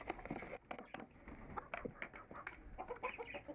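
A pet rooster being fed gives soft, low clucks over a light pecking patter, faint and close, with no speech.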